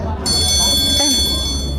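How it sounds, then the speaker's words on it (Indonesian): A steady high electric school bell starts abruptly and rings continuously over low background rumble, with a voice briefly talking underneath. "Udah bel tuh."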